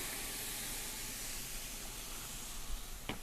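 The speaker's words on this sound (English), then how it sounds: "Add a little steam." Steam hisses under the lid of a 36-inch Blackstone griddle cooking stuffed bell peppers, a soft continuous close hiss with a brief sharp click near the end.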